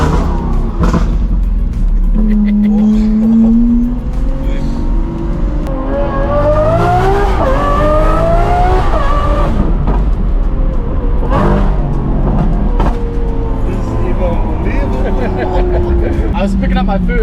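Lamborghini Aventador SVJ fitted with a Gintani F1 exhaust, revving up through rising engine pitch before a shift, loud and close, with people talking over much of it.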